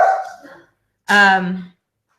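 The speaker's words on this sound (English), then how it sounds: "Sorry, it's my puppy." A puppy gives a single short, sharp, close bark after a brief whimpering or voice-like sound, then silence.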